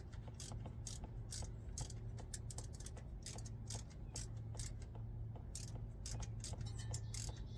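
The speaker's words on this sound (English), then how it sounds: "I'm gonna have to continue to pull this bolt out down here." A ratchet clicks in a quick, steady rhythm as a bolt is worked loose during a thermostat replacement on a 2004 Dodge Ram 1500 3.7, faint and close with a low background hum.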